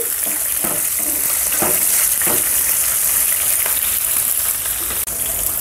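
Green chilli pieces fry on a low flame in a pan of oil for upma or tomato bath, producing a loud, steady crackling sizzle with a few stirring scrapes and one brief sharp knock near the end.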